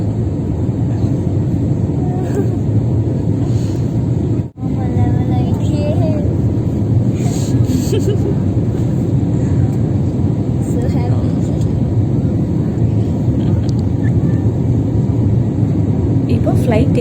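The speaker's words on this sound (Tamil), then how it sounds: "இப்போ ஃப்ளைட் டேக் ஆஃப் ஆகி ஸ்டேபிள் ஆகிட்டு" Steady, loud airliner cabin roar while climbing out after takeoff on a flight from Chennai to Kuwait City, a broad continuous engine and air rush lasting throughout with only a brief dip.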